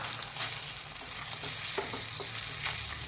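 Eggs scrambling in butter in a frying pan, a continuous close sizzle with soft scraping and stirring strokes of a utensil, no talking.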